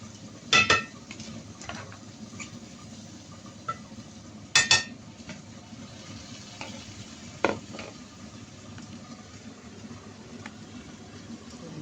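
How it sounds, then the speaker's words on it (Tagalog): Mung beans and crushed dried shrimp get stirred together in a pan: a low frying hiss with occasional sharp spoon clinks and scrapes against the metal, a couple of clusters of knocks spaced several seconds apart, close and without speech. "Ihalo na natin yung munggo sa dry shrimps na dinurog."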